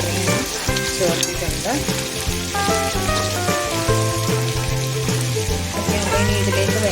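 Vegetable pieces for aviyal fry in coconut oil with a loud, bubbling sizzle, while a strong musical tone plays over it and a voice speaks briefly.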